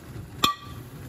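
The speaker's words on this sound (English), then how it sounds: "Excuse the banging, that's my big jar." A single sharp knock of a large glass jar against a hard surface, with a brief ringing clink trailing off over a quiet background.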